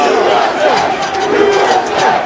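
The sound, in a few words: crowd of Trump supporters shouting at the Capitol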